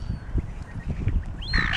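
Seagulls call around people, a loud squawk near the end rising over a busy rumbling background of flapping and crowd noise.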